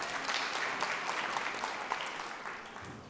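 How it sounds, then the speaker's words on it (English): Audience at a talk on growth UX research giving a speaker a round of applause, dense even clapping from many people that fades a little toward the end. "Let's give Zoe a round of applause."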